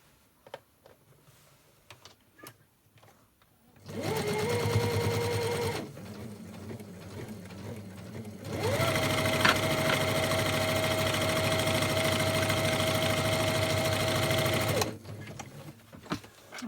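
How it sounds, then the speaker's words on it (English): A sewing machine stitches across lunch bag fabric in two bursts, a short run followed after a pause by a longer steady whirring stretch, close and loud, with quiet handling noises between. "you're going to sew across there"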